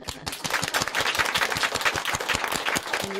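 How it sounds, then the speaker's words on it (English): An audience at a Buddhist story talk breaks into loud, dense applause, the clapping steady and sustained throughout with no speech over it. "We applaud."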